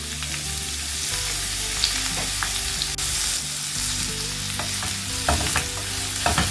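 Three large sliced onions fry in hot oil for a Mughlai chicken gravy, a loud, dense sizzle with constant crackle and occasional stirring scrapes, no voices.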